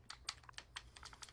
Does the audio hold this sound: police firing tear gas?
no